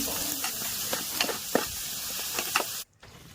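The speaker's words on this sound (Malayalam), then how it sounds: "മീൻ പൊരിച്ച അതേ പാനിലേക്ക് തന്നെ സവാളയും വരട്ടിയെടുക്കേണ്ടതാണ്" Chopped onions sautéing in the same pan just used to fry pearl spot fish for a Kerala-style curry, a steady soft sizzle with faint stirring scrapes throughout, fairly quiet, cutting off abruptly near the end.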